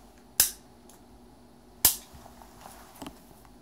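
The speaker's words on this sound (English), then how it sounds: "got a cap gun." A toy cap gun, part of an airsoft loadout, fires two sharp, loud cracks about a second and a half apart, each with a brief decaying tail, followed by faint handling clicks.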